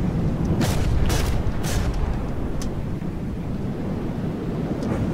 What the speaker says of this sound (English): this whole effect here is really lousy. The whole dying effect here.